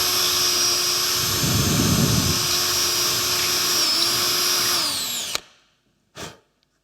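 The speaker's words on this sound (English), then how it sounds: "You can take this drill now, go into the hole" A power drill widening a hole in a wooden chisel handle, a loud sustained high whine with a deeper grinding burst partway through, ending abruptly, then a brief short whir after a pause.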